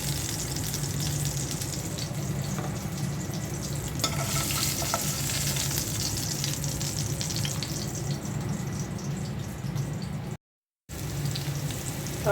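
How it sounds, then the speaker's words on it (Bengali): Onion sizzling steadily in hot oil in a pan while being prepared for a fish curry, a loud continuous frying hiss with occasional stirring, broken by a brief cut near the end. "তরকারি রান্নার জন্য পেঁয়াজটা হালকা ভেজে নিয়েছি।"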